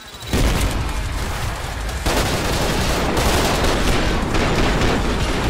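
Grenade blasts and rapid gunfire in the Trepang2 video game, a dense, continuous barrage of loud shots and booms, with a sharp burst near the start and another near the middle.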